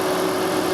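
Worn-out older Toyota Prius engine, oil-burning and suspected of a blown head gasket, running with a steady, loud idle hum and a constant tonal drone.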